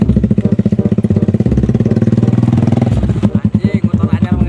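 A new motorcycle engine runs close by with a steady, throbbing rumble that stays loud throughout, shifting slightly near the end as if revved; a voice can be heard over it.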